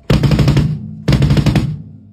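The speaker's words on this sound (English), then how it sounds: "First thing you need to know is the double kick." Two quick bursts of rapid, rolling double bass drum kicks from two pedals, each lasting under a second, punchy and close with a short pause between them.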